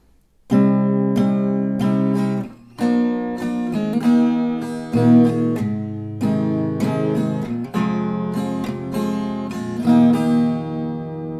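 An acoustic guitar is strummed slowly, chords ringing out with pauses between changes, close and clear with no voices.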